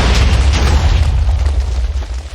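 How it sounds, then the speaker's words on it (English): A single loud TNT explosion in Minecraft, a deep booming burst that rumbles and slowly decays over a couple of seconds. "I will give you a quick demo of what one of these explosions will look like"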